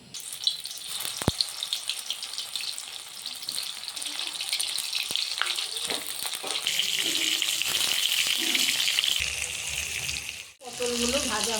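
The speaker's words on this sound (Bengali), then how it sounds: "এবার পটলটাকে ভেজে নেব" Stuffed pointed gourds (potol) frying in oil for a Bengali potol dolma, giving a steady, close hiss and crackle that swells louder toward the end before a brief cut and a faint clatter.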